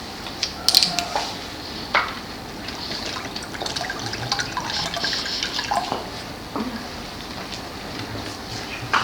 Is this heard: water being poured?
yes